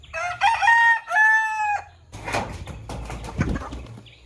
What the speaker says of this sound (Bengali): দেখেন মোরগটা কই উঠছে।